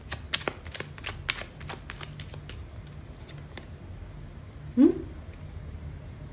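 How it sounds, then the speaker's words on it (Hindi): Cards are handled from a tarot deck in a quick run of crisp riffling snaps and flicks, then things go quieter, and a short voice sound comes near the end. "चलिए एक कार्ड हम इसमें से ले लेते हैं"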